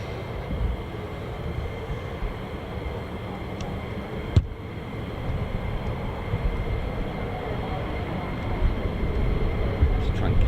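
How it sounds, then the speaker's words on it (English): Jet engine noise from a KC-135 aircraft near an air force base, a loud continuous low rumble and roar that swells slightly toward the end, with one sharp knock partway through. "Let's try and catch this KC-135."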